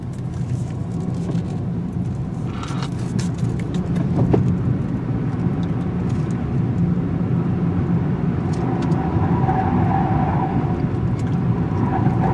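A 2018 Kia Rio drives a tight turning circle, its engine droning steadily with a low rumble and rising slightly in effort partway through, tire noise blended in, no voices.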